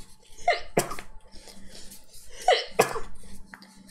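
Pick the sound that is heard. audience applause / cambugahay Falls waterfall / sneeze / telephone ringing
sneeze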